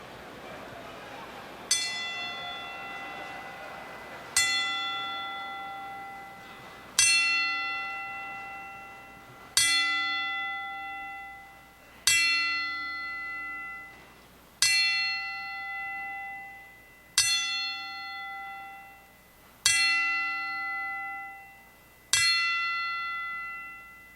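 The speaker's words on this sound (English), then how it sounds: "we toll a memorial 10 bells for our dear friends" A memorial ten-bell toll at a boxing event, rung as single bright bell strikes about every two and a half seconds, each ringing out with a long decaying tail before the next, loud and alone in a quiet hall.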